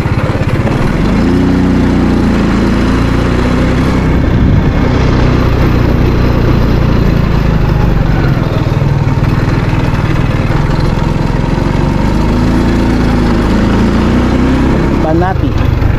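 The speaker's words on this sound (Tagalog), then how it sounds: "Yung motor ko yung nagpa-tune up na to, na yung andar na hindi na maganda, oh." A motorcycle engine running rough and in need of a tune-up drones loud and steady throughout a ride, with wind noise and speech over it.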